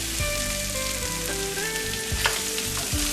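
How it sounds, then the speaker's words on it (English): Diced Italian sausage, pecan halves and diced carrots sizzling steadily in a hot pan, a constant close crackle with occasional stirring clatter. "we've had our carrots, sausage, and pecans cooking in the pan for about 5 minutes now"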